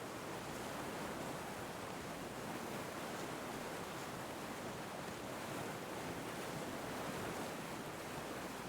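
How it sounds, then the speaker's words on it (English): A loud river rushes in the video game The Long Dark, a steady, dense wash of flowing water with a windy hiss that runs unchanged throughout, with no talking. "The river is loud"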